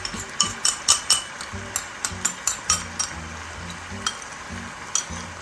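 Pork and vegetables stir-frying in a hot pan, a constant sizzle broken by sharp metallic clinks and scrapes of the utensil against the pan at an uneven rhythm.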